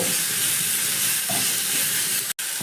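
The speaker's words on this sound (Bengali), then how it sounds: "নারকেল আর কাঁচা লঙ্কা দেওয়ার পর ভালো করে একটু নাড়াচাড়া করে আমি এখানে ভেজে নেব" Grated coconut and green chillies hiss and crackle in a pan while being stirred, a steady close sizzle with a brief sharp knock near the end and no voices.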